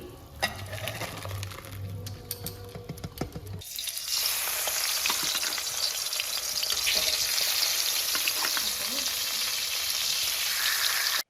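Dal pours into a hot pan and bursts into a loud, steady sizzle after a few seconds of clinking and stirring, the frying roar holding close and even until the end.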